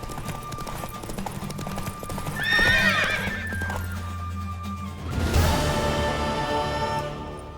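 In The Witcher 3, a horse's hooves clatter over a musical backdrop, a sharp whinny rises around a third of the way in, and a heavier thud of hoofbeats follows, with little talking.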